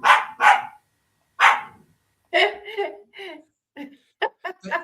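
A dog barks in a few loud, close bursts near the start, and a person then talks and chuckles lightly.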